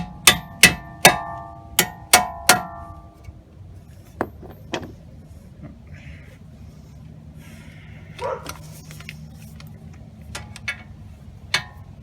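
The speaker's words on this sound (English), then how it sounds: "And you need to gently tap, tap, tap, tap. To remove those two bolts." Metal taps on bolts at the axle and steering knuckle of a 2014 Chevrolet Malibu, a quick series of about six sharp ringing hits up close, then scattered lighter clinks and tool handling.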